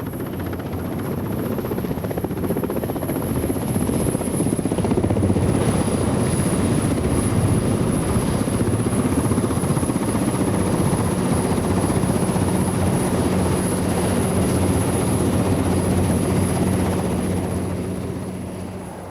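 A Westland Whirlwind helicopter flies past steadily and loudly for the whole stretch, its rotor chop and turbine whine forming a continuous dense roar with a high constant whine above it, and no voices.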